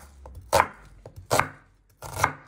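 A knife chops through a peeled onion on a board with three firm, evenly spaced strikes, close and crisp, with a quiet pause between each cut and no talking.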